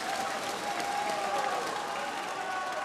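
A darts match crowd at the Japan Masters final applauds and cheers in a steady, dense wash of clapping that fills the whole stretch without a break.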